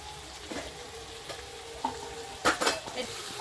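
Meat with fried potatoes and ground roasted cumin is stirred and fried in a pan, with a continuous close sizzle and several spatula scrapes and clanks, the busiest strokes coming in a quick cluster toward the end.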